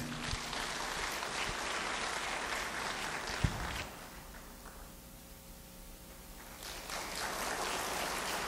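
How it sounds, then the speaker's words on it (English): A dense wash of clapping from a crowd, steady for several seconds, dips briefly to a quieter murmur, then swells again. "Let's welcome him with a big applause."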